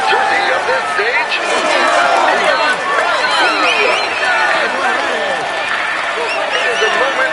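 A stadium-style crowd cheers and claps continuously at a Tour de France stage podium in a video game, dense and steady with a commentator talking over it.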